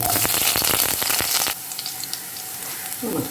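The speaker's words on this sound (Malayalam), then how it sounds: "എണ്ണ ചൂടായി ഇതിലേക്ക് കടുകിട്ട് കൊടുക്കാം" Mustard seeds dropped into hot oil for a prawn coconut curry crackle and pop in a dense burst of loud, close spattering, then settle into a quieter steady sizzle.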